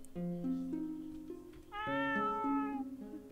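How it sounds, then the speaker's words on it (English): A cat in the video game Rakuen meows twice, a lower drawn-out call followed by a brighter, higher one, clear and close over soft game music. "Okay, you are a cat."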